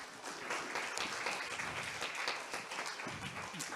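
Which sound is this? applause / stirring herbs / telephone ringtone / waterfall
applause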